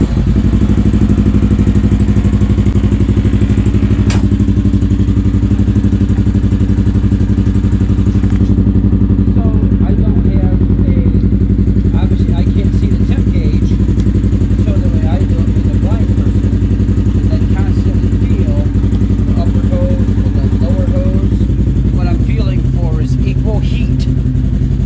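A Polaris RZR Highlifter 1000XP side-by-side engine runs steadily for the whole stretch, a loud, continuous low rumble with faint clatter and light revving layered over it.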